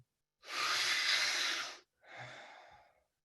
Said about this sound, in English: We're going to go 5 more breaths as a group.